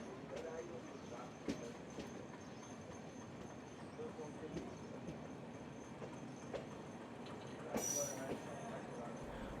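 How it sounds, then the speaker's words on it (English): A metre gauge train in Uttar Pradesh, India, rolls over a bridge and into a station, with a low continuous rumble and occasional sharp clicks from the wheels, a brief metallic squeal near the end, faint and fairly distant. "my train crosses the Tera Gaudi bridge and enters Majrapurab station"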